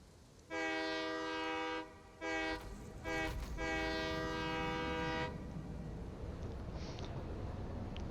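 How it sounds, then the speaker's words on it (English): A train horn in the factory-building video game Satisfactory sounds loud and close in four blasts: a long one, two short toots, then a final long blast that fades into ambient hum. "The train horn is the best horn in the game."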